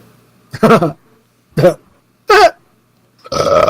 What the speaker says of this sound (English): Just belching on air.